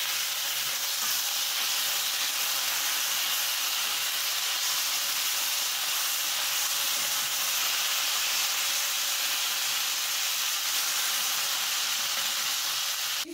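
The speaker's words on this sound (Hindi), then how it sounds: "एक साइड से फिश अच्छे से जब फ्राई हो जाएगा तब हमें इसे पलट देना है।" Katla fish frying in hot oil in a pan gives a steady, loud broadband sizzle that hisses evenly throughout with no pauses, ending in a brief clack.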